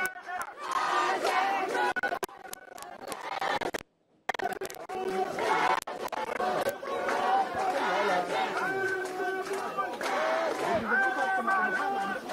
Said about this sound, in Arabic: ترديد أيضا هتافات تؤكد حق العودة لكل بلدة وبلدة من القرى الفلسطينية